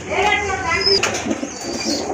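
Pigeons at a pigeon farm, including Brahma pigeons, give a brief burst of flapping wings close by, mixed with a voice talking over it.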